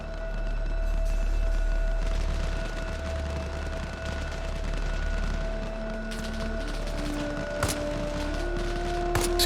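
Gunfire in the military shooter Arma Reforger, with scattered shots and bursts crackling at a distance throughout, set over a steady droning ambient bed with no talking.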